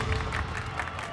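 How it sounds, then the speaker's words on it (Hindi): A crowd clapping and applauding at a celebrity competition event, a brief dense patter of many hands mixed with crowd noise, loud and close. "रुको, क्या ये सब लोग यहाँ ताली क्यों बजा रहे हैं?"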